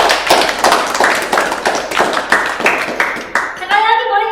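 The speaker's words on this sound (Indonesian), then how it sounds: "Tepuk tangan yang meriah." An audience claps loudly in a rhythmic unison pattern of sharp, evenly spaced bursts, ending with a short held cheer or chant.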